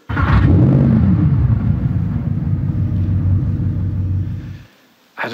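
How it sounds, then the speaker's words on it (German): A sports car engine fired up with a turn of the key, a loud, close, deep rumble that holds steady for several seconds, then cuts off abruptly. "Wenn er da den Schlüssel umdreht"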